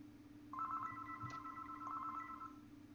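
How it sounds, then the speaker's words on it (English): A telephone rings in a short electronic trill that starts about half a second in and repeats once, moderately close over a steady low hum, with no talking. "my phone's going"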